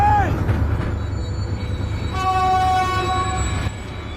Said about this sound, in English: A train was coming behind.